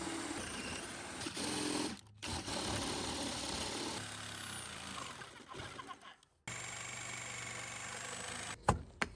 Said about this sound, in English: Get it as good as you can with the jigsaw.